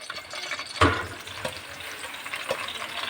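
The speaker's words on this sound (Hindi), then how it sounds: "अब हमारा ऑयल गर्म हो गया, तो अब हम इसके अंदर डालते हैं बैंगन" Eggplant fries in hot oil with a low, steady crackle, marked by one sharp clatter early on and a few lighter stirring knocks, close and fairly quiet without speech.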